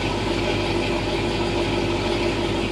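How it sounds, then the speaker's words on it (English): Dodge Challenger V8 with a Comp Cams 270 camshaft idling in gear at about 750 RPM, a steady loud low rumble with a faint lope, close and continuous. "that's pretty much what a comp cam 270 sounds at 750 RPMs"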